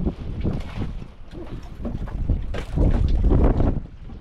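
Strong wind buffets the microphone in loud, continuous rumbling gusts, surging louder near the end, with a boat-on-water feel and no voices.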